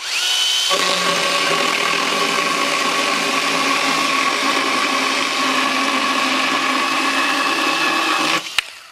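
An ALKO mini chainsaw cuts steadily through wood in a side-by-side comparison, a loud continuous buzzing motor whine running for about eight seconds before stopping abruptly.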